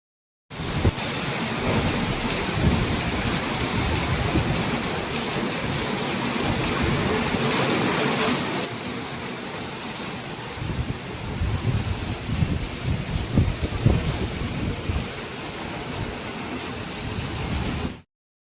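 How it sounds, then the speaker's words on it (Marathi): An afternoon downpour of heavy rain drums loudly and steadily on surfaces nearby, with a low rolling of thunder mixed into the continuous wash of sound. "दुपारी चालू झाल्यानंतर खूप जोराचा पाऊस चालू झाला होता."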